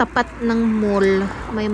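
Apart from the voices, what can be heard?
None of the usual background noises is heard.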